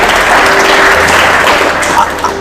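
A church congregation claps their hands in praise during a Hindi Christian sermon, a loud dense burst of clapping that tapers off near the end.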